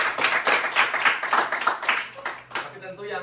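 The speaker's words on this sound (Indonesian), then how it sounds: "kita tepuk tangan sekali lagi buat yang best staff" Lively clapping from a group at a student organization event, with broadband bursts of hands over several seconds, mixed with some talk and crowd voices before it thins out near the end.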